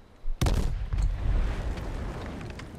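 A sharp blast from grenades in the video game H1Z1 followed by a rumbling explosion and scattered crackling debris, loud and close, fading over a couple of seconds.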